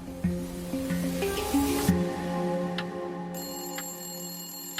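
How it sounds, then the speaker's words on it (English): A telephone rings with a bright, metallic bell tone that starts partway through and continues, following tense musical tones and a whooshing swell. "Not long after, the phone rang."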